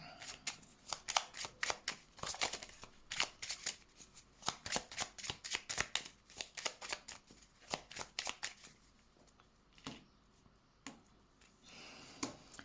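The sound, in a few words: shuffling tarot cards for a reading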